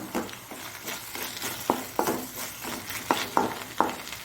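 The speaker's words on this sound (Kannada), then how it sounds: "ಈಗ ಸ್ವಲ್ಪ ಇದು ಫ್ರೈ ಆಗಬೇಕು." Prawns frying with tomato and salt in a pan for Mangalore-style prawn uppumunchi, a continuous sizzle punctuated by regular spoon scrapes and knocks as the mix is stirred, close and moderately loud, no talk.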